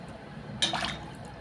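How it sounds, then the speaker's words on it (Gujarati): A glass of water is poured into a pot of cluster beans (guar) seasoned with salt for boiling, making a short splashing gush that rises suddenly, then quickly fades over a quiet kitchen background. "એક ગ્લાસ પાણી નાખવાનું"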